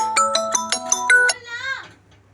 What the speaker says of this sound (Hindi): ये देखिए इसकी बड़ी मम्मी का फोन आ रहा है।